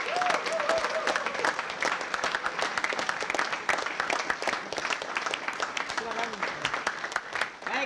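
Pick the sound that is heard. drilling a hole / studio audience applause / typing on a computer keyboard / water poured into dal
studio audience applause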